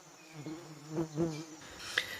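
Bees in an equatorial forest buzz faintly, with a low drone that swells in a few short pulses against quiet surroundings.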